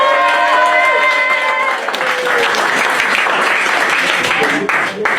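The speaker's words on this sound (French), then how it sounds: "on l'applaudit très fort" A crowd at a diploma presentation during a youth exchange event breaks into loud, close applause while a voice and some music-like tones carry on underneath at first.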